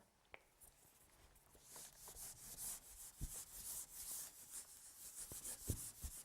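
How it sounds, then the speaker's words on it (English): Wiping chalk or marker off a classroom board, steady scrubbing strokes in a continuous rhythm with a few dull knocks, moderately close, no talking. "Let me rub some of this board out."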